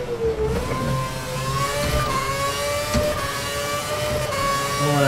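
Formula 1 car engine in F1 2011, revving high and close with a whining tone that climbs and shifts, loud and continuous with no voices.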